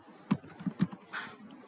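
A few quick keystrokes on a computer keyboard entering a command, sharp close clicks in an uneven burst of about four taps.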